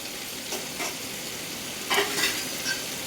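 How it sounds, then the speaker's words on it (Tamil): Brinjal and okra sautéing in a pan for South Indian sambar, a steady close sizzle with a few soft stirring scrapes. "கத்திரிக்காய் வெண்டைக்காவை போட்டு இப்போ சாம்பாருக்கு வதக்கிட்டு இருக்கிறேன்"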